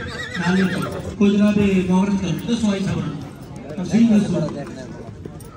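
Horses neigh and whinny repeatedly at a crowded horse fair with neza bazi (tent-pegging) events, the calls rising over steady close talking and crowd babble.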